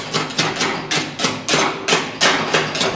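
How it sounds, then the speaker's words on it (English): Grass being scraped off the underside of a Gravely mower deck, heard as a close series of rhythmic scraping strokes about twice per second, each starting with a knock, no talking. "So I'm just going to keep scraping away."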